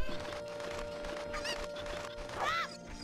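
Chickens from The Legend of Zelda: Ocarina of Time on the N64 cluck and squawk over steady game background noise, with a louder burst of fluttering squawks near the end.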